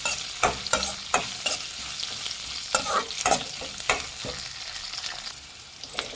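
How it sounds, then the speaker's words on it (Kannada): Vegetables frying in oil with a steady sizzle, punctuated by sharp scrapes and clanks of stirring in the pan. "ಚೆನ್ನಾಗಿ ಫ್ರೈ ಮಾಡಬೇಕು ಫ್ರೆಂಡ್ಸ್"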